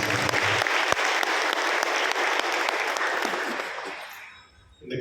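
Church congregation applauding at a Tamil Christmas Mass, a thick wash of clapping that fades out near the end, with a few scattered claps rising again.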